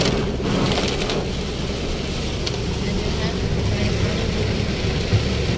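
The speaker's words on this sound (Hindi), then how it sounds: "ऐसी बारिश हमारी जिंदगी में हम पहली बार देख रहे हैं" Heavy monsoon rain during a cloudburst in Dang, South Gujarat, roars steadily and densely throughout, a constant wash of noise with no breaks.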